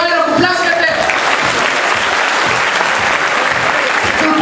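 Loud, continuous applause from a game-show audience at a quiz sketch, dense clapping filling the whole stretch without pause.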